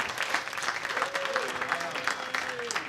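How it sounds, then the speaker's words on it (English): Comedy show audience giving a round of applause, steady moderate clapping from a crowd, with some voices and cheers underneath. "let's give them a nice round of applause."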